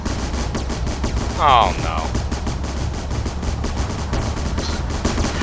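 Rapid automatic gunfire in a video game battle rattles steadily throughout, loud and continuous, with a short exclamation from a speaker partway through.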